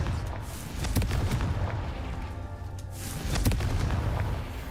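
Confringo blasting curse explosions in Hogwarts Legacy, two deep rumbling booms about two seconds apart, loud and close over a steady game soundscape.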